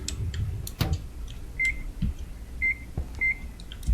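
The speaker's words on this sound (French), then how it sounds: "On met au micro-ondes." A microwave oven runs in a video game, with a steady hum broken by several short, clear electronic beeps.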